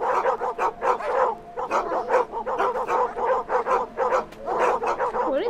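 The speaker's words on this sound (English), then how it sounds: "I hear dogs." Dogs in the video game Endling bark in a rapid, nearly continuous chorus of overlapping barks and yips, loud and fairly close, with no talking.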